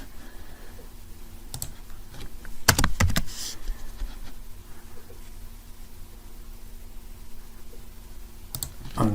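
Computer keyboard typing in short bursts of clicks and taps, fairly close, with quiet pauses between bursts and no talking.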